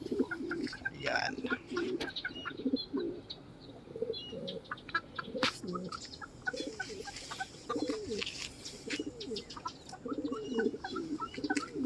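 A pair of breeder pigeons coo repeatedly at close range in a loft, with scattered chirps and brief wing flutters, while a person talks intermittently over the birds.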